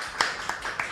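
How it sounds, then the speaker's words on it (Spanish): A handful of sharp claps close out a studio talk-show interview: about four separate hand claps spaced roughly a quarter second apart, close and fairly loud over a quiet background. "le despedimos con un aplauso"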